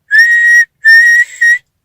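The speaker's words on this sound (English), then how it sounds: "He blew his whistle" A high, clear steam whistle from Thomas the Tank Engine blows twice, a long blast and then a second longer one that dips briefly before ending, loud and close with no talking.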